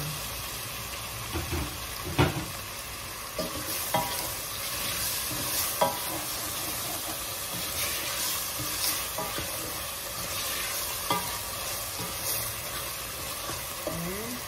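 A vegetable mix with green peas sizzles steadily in a pan while being stirred, with repeated scraping and clinking of the utensil over continuous frying noise.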